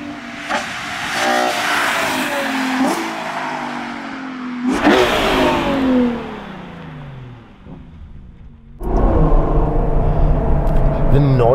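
A Ferrari Purosangue V12 revs from inside the cabin, rising and falling in sweeping pulls with a gear change and a surge of louder engine roar near the end, while people talk over it.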